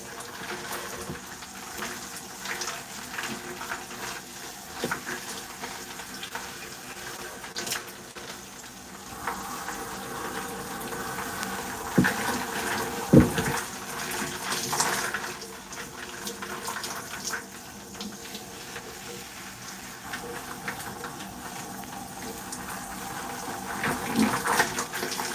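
Running water splashes and hisses steadily while curly hair is wetted, with irregular surges and soft handling noises close by and no talking.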